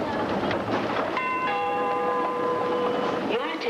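Singapore MRT train at a station: a steady rumble of the train with sustained electric tones that hold for a couple of seconds, and a voice faintly audible in the background.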